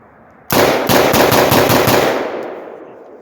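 A rifle firing 7.62x39 ammunition in a fast, loud burst of roughly ten rapid shots outdoors, the blasts running together and then fading into a long echoing decay.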